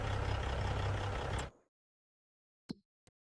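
Heavy truck engine in the Farming Simulator 25 video game rumbles loudly and steadily for about a second and a half, then cuts off abruptly, followed by two brief faint knocks.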